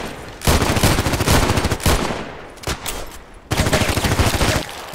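Rapid, loud gunfire bursts from a Colt Python Elite revolver in the shooter game Contract Wars, three dense volleys separated by short gaps, fired with iron sights.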